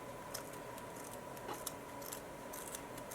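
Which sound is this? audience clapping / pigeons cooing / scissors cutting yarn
scissors cutting yarn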